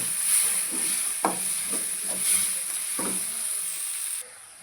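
Prawns, onion and tomato sauté in a pan for a radish prawn gravy with mint and coriander leaves, giving a steady sizzle broken by several scraping stirs of a spoon, close and moderately loud.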